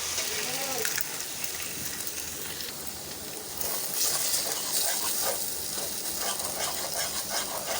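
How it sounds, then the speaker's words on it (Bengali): Egg sizzles as it is dropped into okra frying in a pan, a steady crackling hiss of hot oil with faint stirring, continuing under a quiet voice. "এখন এর মধ্যে দিয়ে দিচ্ছি একটা ডিম,"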